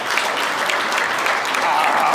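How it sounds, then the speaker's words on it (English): Wedding guests break into loud, close applause, a dense burst of clapping from a crowd that carries on steadily throughout. "Give another big round of applause, everyone"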